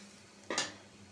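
Chopped onion goes into a hot pan while fish curry cooks, a single brief sizzling hiss with a light scrape, quiet and close in a home kitchen.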